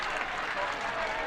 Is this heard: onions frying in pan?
no